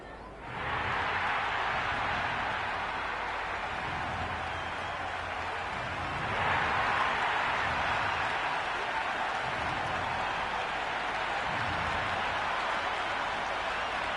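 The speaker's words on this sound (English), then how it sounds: "The crowd are making a heck of a lot of noise" A cricket stadium crowd at a KKR vs CSK match, a dense sustained roar of cheering and clapping with a swell partway through, while a commentator talks over it.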